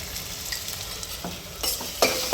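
Spice masala of turmeric, chilli, coriander-cumin and sambar powder is stirred in a hot pan for sambar, with a continuous sizzle and a few scraping strokes of the spoon up close.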